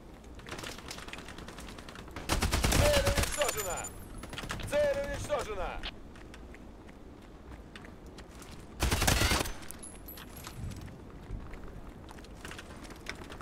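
Bursts of gunfire in the video game Hired Ops, two loud clusters of rapid shots a few seconds apart, with quieter clicks and handling between them and faint talk around.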